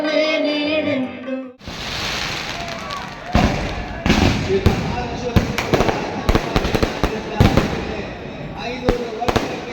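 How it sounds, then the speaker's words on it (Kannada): Deepavali firecrackers and fireworks burst in the night sky, with a string of sharp, loud bangs and crackling pops close together after a short stretch of music. Voices are heard underneath. "ಬಾನಂಗಳದಲ್ಲಿ ಪಟಾಕಿಗಳ ಚಿತ್ತಾರ ಮೂಡಲಿದೆ."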